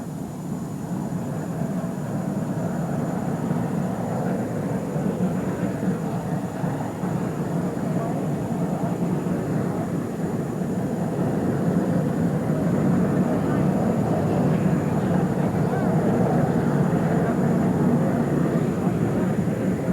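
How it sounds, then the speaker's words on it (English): A steady, low rumbling engine drone from an Army helicopter's rotor starting for takeoff, continuous and fairly loud, with a broadband whine building slightly over time. "Now the Army helicopter is preparing to take off. The rotor's beginning."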